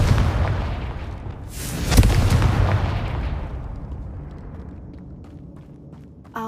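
Confringo blasting spell in Hogwarts Legacy: a loud booming explosion bursts out near the start over a dense rumbling bed, with a sharp second blast around two seconds, then the rumble slowly fades away, ending with a brief crack.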